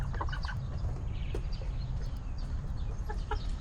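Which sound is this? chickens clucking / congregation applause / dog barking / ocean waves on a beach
chickens clucking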